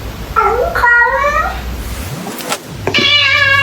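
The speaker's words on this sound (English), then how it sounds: "If you're happy and you know it, say meow." A cat meows up close and loudly, two drawn-out, wavering meows with a brief pause between them.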